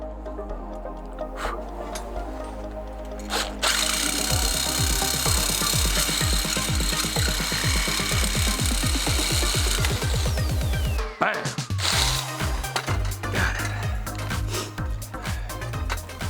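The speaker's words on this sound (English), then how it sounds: "I drilled and drilled again and drilled some more, and after some more drilling I finally got through the door frame" A power drill bores through a wooden door frame in a greenhouse, starting after a quiet moment with a loud, steady whine and rising, stuttering pitch as the bit bites, stopping briefly, then resuming with rougher grinding.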